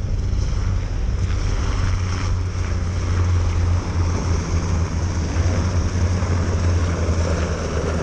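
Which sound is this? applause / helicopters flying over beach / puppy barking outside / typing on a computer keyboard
helicopters flying over beach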